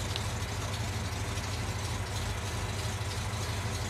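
A 1968 Dodge Coronet V8 idles close by, a steady loud low rumble with an even throbbing pulse and no talking.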